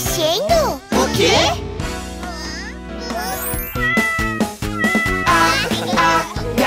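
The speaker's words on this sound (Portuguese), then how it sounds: "o gato está na caixa" A cat meows from inside a box, several drawn-out, pitch-bending cries spread across the clip, loud and close, mixed with singing and bright children's-show music.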